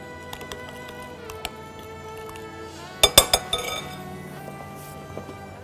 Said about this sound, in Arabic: وهنقلب كل حاجة هنا مع بعض